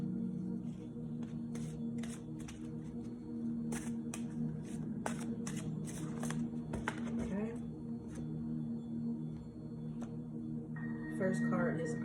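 A tarot card deck being shuffled, a series of quick crisp riffling and flicking bursts repeating across the span, fairly close, over a low steady background hum.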